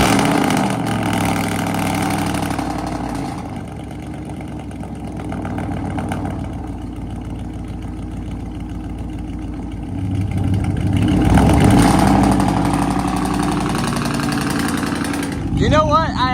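A 5.9L pickup truck engine with straight pipes and no mufflers idles with a loud, raw, burbling rumble, then swells briefly as the throttle is blipped, with a person talking over it.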